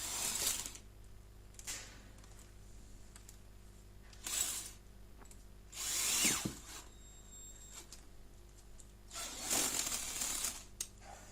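A power drill fitted with a slightly larger bit runs in several short bursts while repairing the base of a sander, faint whirring spurts separated by quiet pauses.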